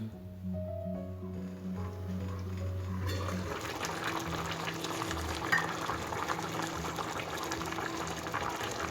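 A pot of cabbage rolls stuffed with mince and rice coming to a boil, first quiet with a low hum, then a continuous bubbling, burbling wash of water, close and moderate in level, with no voices.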